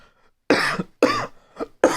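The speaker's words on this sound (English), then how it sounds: "I have a wicked cough." Several sharp, harsh coughs from one person close up, loud bursts in an irregular rhythm separated by brief silences.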